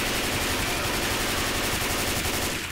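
Rapid automatic gunfire from Left 4 Dead 2 rattles continuously at close range, a dense loud burst of shots that fades slightly at the very end.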